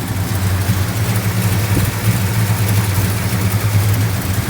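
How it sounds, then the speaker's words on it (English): A 1970 Dodge Superbee sits idling with its hood open, a steady low rumble with an even, smooth beat that holds at one level throughout, close by and alone with no voices. "Just a smooth running engine here"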